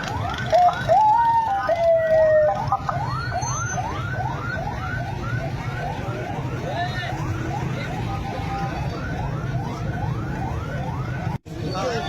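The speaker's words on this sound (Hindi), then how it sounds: "ये आप एम्बुलेंस देख सकते हैं" A wailing ambulance siren rises and falls in rapid repeated sweeps, loud and near, with traffic noise and voices underneath, after a police encounter with robbers.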